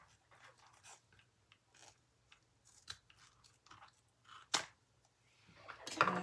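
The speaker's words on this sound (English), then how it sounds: "I'm going to cut off my excess zipper tape." Scissors snip off excess zipper tape while a leather roper wallet is being made, giving a quiet run of small irregular clicks and cuts that ends in a few sharper, louder snips.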